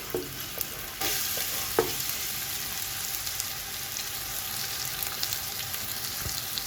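Sliced onions sizzle and crackle in hot oil while browning for yakhni pulao, a steady frying hiss with occasional stirring clinks, close up.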